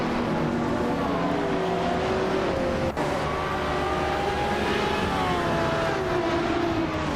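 Engines of 2001 TVR Tuscan race cars in a racing video game, a sustained droning and whining of several cars at speed with shifting pitch and one brief sharp click midway.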